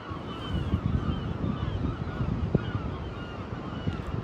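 Nesting-season gulls call in a busy, agitated colony, with overlapping harsh cries over steady wind noise and rumble, fairly distant and continuous.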